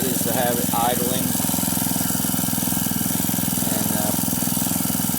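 A gold dredge engine idles beside a bedrock channel, a steady close mechanical drone throughout with someone speaking briefly over it near the start.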